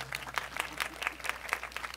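Steady applause from an audience at an outdoor high school band concert, a dense wash of many hands clapping with no pauses over two seconds.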